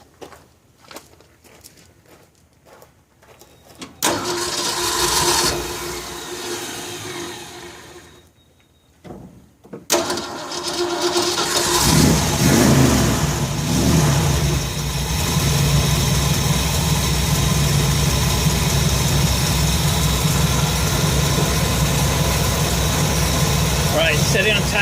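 A Ford 302 V8 in an F100 pickup cranks and fires after a quiet stretch with footsteps, then settles into a steady, loud, close idle, with talk heard in the clip.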